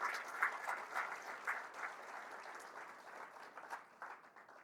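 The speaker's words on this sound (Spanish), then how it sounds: "Démosle un aplauso al Señor fuerte" A church congregation claps together for the Lord during a sermon, a steady, fairly distant patter of many hands with small rises and dips, no voices.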